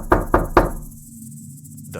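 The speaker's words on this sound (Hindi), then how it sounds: "घबराया हुआ अर्जुन दौड़कर दरवाजे तक पहुंचा और जोर जोर से दरवाजा खटखटाने लगा।" Three loud, evenly spaced knocks on a house door at night, each sharp and close, followed by a low hum and silence.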